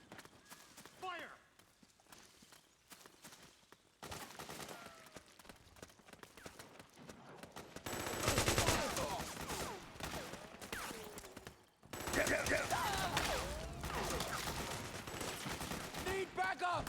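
Gunfire bursts in the video game Metal Gear Solid 4, loud and dense in the second half amid hoof-like clatter and shouted voices.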